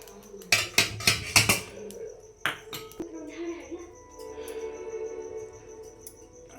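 Spoon clattering and scraping against a metal pot while mixing a North Karnataka style spice powder, a burst of loud clinks early then softer scraping, with a voice talking underneath.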